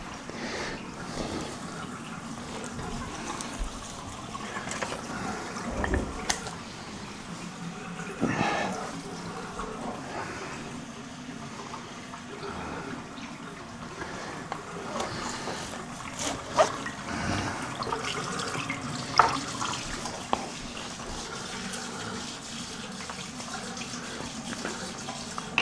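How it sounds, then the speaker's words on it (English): A basting brush used for olive oil is rinsed under a running kitchen tap, with steady splashing water from the faucet continuing throughout and small clinks and knocks rising above the flow. "And I need my brush that I put the olive oil on. But let me get that rinsed off real good."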